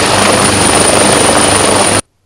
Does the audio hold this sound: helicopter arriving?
yes